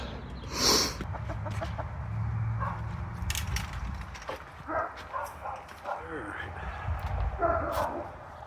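Backyard chickens at their coop cluck and murmur in short scattered bursts, close and moderate, over a rumbling background with an occasional dog bark.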